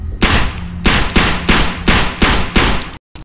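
A modded gun firing in Fallout New Vegas, seven loud, evenly spaced gunshots in rapid succession, each with a short tail, ending abruptly in silence.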